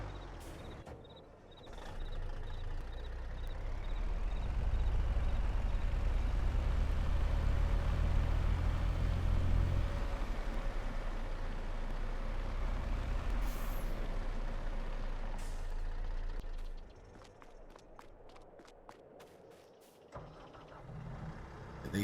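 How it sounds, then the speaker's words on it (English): A tow truck in a forestry video game rumbles with a loud, low engine drone, then air brakes hiss and the engine fades into quieter clunks and clicks near the end. "I'll move the truck over here, I think."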